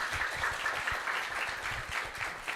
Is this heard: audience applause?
yes